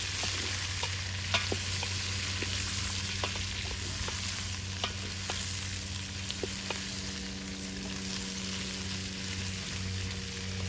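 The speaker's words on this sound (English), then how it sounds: "Give it a quick stir." Onions fry gently in a pan for lecsó, a steady soft sizzle under occasional light clicks and scrapes of a utensil giving them a quick stir. A faint low hum runs underneath and no one talks.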